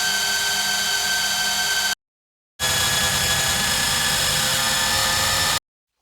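A granular-synthesis loop with a dense, buzzing, engine-like drone plays loud in two blocks separated by a short gap of silence, its grains giving a faintly stuttering texture.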